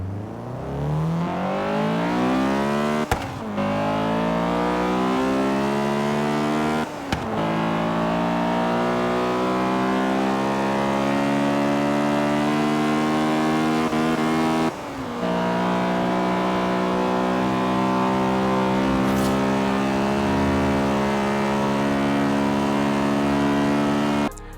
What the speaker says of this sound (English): let's hit VTEC again on the Seacliff Bridge in Australia